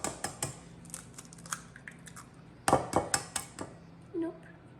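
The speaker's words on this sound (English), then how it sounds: "now we're gonna put 4 eggs into the bowl" Eggs being cracked into a mixing bowl while making a funfetti unicorn cake: a series of sharp taps and knocks on the bowl rim, clustered in small groups with pauses, close and fairly quiet, ending with a soft wet plop.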